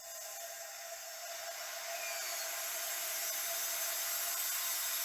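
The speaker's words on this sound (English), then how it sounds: "That's air rushing back into this pot now." Air rushes back into a pressure pot as the chamber vents during rubber mould casting, a steady hiss close by that slowly grows louder and runs on with no talk.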